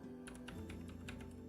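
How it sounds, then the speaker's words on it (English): Computer keyboard typing, a quick run of light clicky keystrokes in an uneven rhythm, close and moderately loud over a steady background hum with music-like tones, no talk. "You could probably hear my keyboard."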